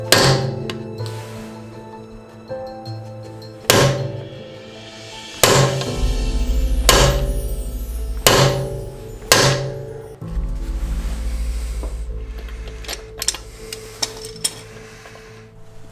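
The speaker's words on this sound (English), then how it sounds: "we tried hammering this on just like I did last time, but this one's just not working for some reason" A hammer drives a wheel lock onto a BMW wheel: several sharp metallic strikes land at irregular intervals, close and loud, with clanking of metal between blows and no one speaking.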